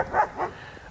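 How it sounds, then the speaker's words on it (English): Young junkyard dogs giving two quick, close barks, short and mid-pitched, followed by quieter background noise. "Found ourselves some nice young junkyard dogs."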